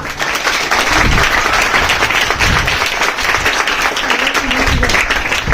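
A village audience at a school gathering in Vadasar applauds teachers and elders: loud, sustained clapping from many hands that fills the space, swelling slightly early on before holding steady.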